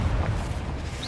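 A Confringo fire spell bursts in a wizarding video game, giving a loud, low rumbling boom that swells and fades over about a second with no talk.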